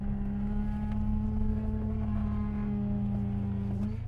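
An old DeLorean on ruined, badly flat-spotted aged tires drives along, with a steady low engine drone and a strong sustained hum and rumble throughout. Toward the end the tone shifts slightly.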